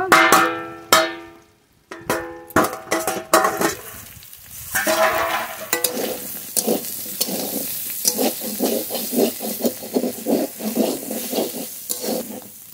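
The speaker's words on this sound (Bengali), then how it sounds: "একটু নেড়ে নেড়ে বেশ কষিয়ে নিয়েছি।" Spiced fish curry is stirred and fried in a pan, with a few sharp metallic clanks of a spatula first, then a loud continuous sizzle broken by rhythmic scraping strokes, near and alone.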